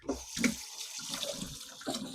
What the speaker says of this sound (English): and drain the water